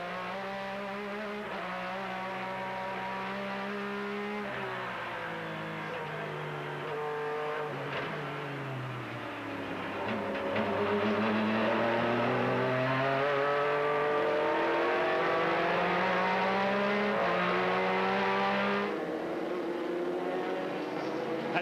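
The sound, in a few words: onboard race car driving, Rolex Sports Car Series at Phoenix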